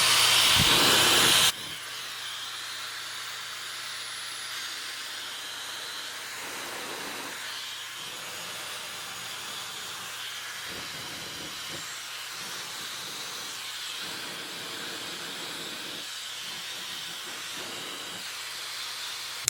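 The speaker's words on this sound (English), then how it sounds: "when I first turned on, the flow is strong. Like the air is blowing all the way over there." A Dyson Supersonic hair dryer blowing air, a steady close whooshing hiss that holds evenly throughout after a brief louder burst at the start.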